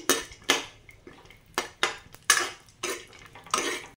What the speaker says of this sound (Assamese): মই ধুনীয়াকৈ অকণমান লৰাই ল'ম